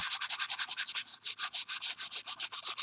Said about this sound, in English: and sandpaper it down